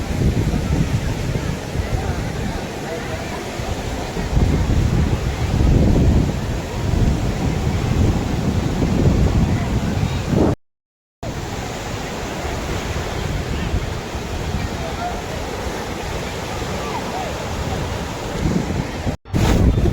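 Ocean waves and wind at Velankanni beach roar loudly and continuously, with rolling surf surges and heavy wind buffeting the microphone, voices mixed in, and a brief dropout partway through.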